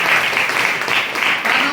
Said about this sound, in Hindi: एक बार फिर से सर के लिए ताली बजाएं।